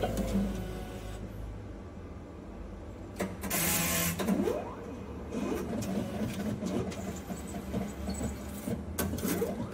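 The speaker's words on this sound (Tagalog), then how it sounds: "I-print mo na ngayon." A bank ATM receipt printer prints a withdrawal slip, giving quiet mechanical whirring and clicking bursts over a low background hum.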